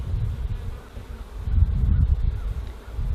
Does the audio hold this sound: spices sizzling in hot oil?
no